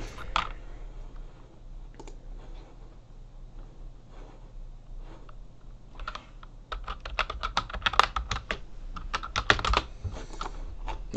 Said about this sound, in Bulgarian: Много ми се чува клавиатурата ми